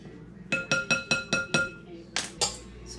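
A mixing spoon strikes the side of a bowl while cookie ingredients including salt are stirred, giving six quick evenly spaced ringing clinks, then two duller scraping knocks, close and clear.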